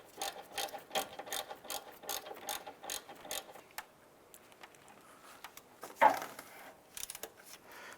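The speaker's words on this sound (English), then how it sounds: "Let's go ahead and tighten up that bottom bolt." A ratchet tightens a bolt on the intake manifold of a 2011-2019 Ford Fiesta, with bursts of rapid close clicking, a pause, a louder clunk, and a few more clicks, all without talk.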